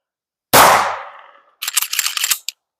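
A single sharp gunshot from a Glock 19 pistol fitted with a Leo Precision Oden rings out loudly at an outdoor range and decays, followed by a rapid rattling burst of metallic clatter and one last short click.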